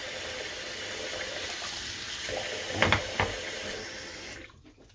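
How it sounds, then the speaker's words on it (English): Running tap water rinsing something off at a sink, a steady close hiss of flowing water with a couple of brief splashy surges before it cuts off. "I'm gonna go ahead and rinse this off right quick."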